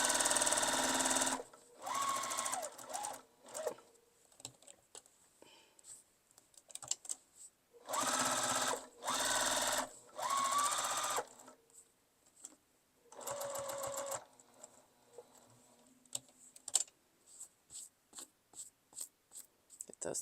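Home sewing machine stitching around the edge of a quilted coffee cup mug rug, running in several loud whirring bursts of a few seconds each, separated by pauses with small handling clicks and rustles.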